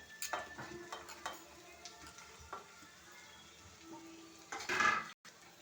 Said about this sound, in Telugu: క్యారెట్ ముక్కలు కూడా వేసుకొని బాగా వేయించుకోవాలన్నమాట